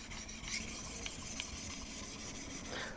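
Knife blade drawn along a coarse 50/40 grit sharpening stone on a TSPROF K03 Pro guided sharpener, a steady close-up rasping rub in continuous strokes with no talk.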